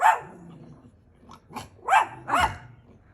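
A dog in Guanajuato, Mexico, barks several times in short bursts, fairly close, with a brief pause between the first bark and the quicker run of barks that follows.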